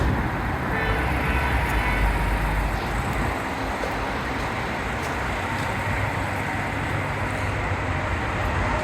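A 2024 Mazda CX-90 3.3 Turbo idles with a steady, even engine hum and broad road-like rumble that holds constant throughout, with no talking.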